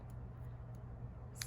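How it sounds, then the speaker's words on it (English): Scissors snip apart pieces from an Emerald Eve paper pad, giving a few faint, brief clicks spaced out over a steady low background hum, with a slightly sharper cut right at the end. "We're going to snip them apart like I did the other ones."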